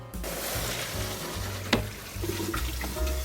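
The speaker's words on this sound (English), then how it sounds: "And then rinse it thoroughly in running water." Tap water runs over blanched spinach in a kitchen sink, a steady rushing hiss with one brief sharper splash partway through and no talk.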